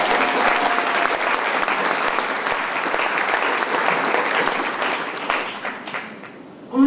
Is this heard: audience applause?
yes